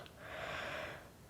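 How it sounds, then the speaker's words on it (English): A long breathy yawn during a yoga relaxation, swelling then fading over about a second, close and alone with no talk. "Yawning is often just the body releasing energy."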